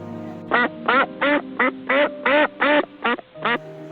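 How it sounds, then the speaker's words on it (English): A duck quacks nine times in a steady, evenly spaced series, loud and close, with quiet gaps between the calls. "Now we will hear the sound of a duck."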